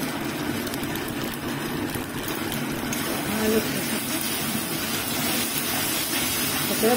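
Spice masala fries in a pan with a continuous broad sizzling hiss that stays steady and loud throughout, under someone talking.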